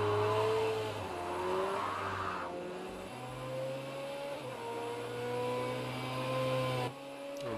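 A McLaren 720S drifts in the racing game Project Cars 2. Its engine note rises and falls through gear shifts while tyres squeal steadily, loud and close, with no talking.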